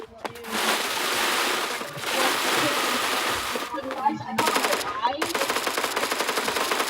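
Roblox Phantom Forces video game gunfire: a loud automatic support weapon sprays sustained bursts in the foreground, separated by short pauses, with a rapid clattering string of shots at the end.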